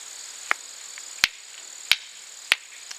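Hammerstone striking rock during flint knapping, four sharp separate clicks about half a second apart, close and dry over a quiet outdoor background with faint insect buzz.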